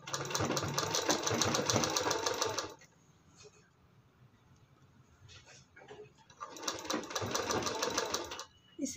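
Domestic sewing machine stitching a folded sock into a baby boot, running in two loud steady bursts of rapid whirring stitches, near, with a quiet pause between.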